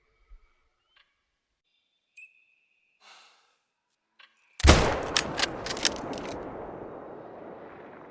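A single loud, close .338 rifle shot at a moose cracks out after several seconds of near-silence broken by faint breaths, then echoes and rumbles away slowly across open country.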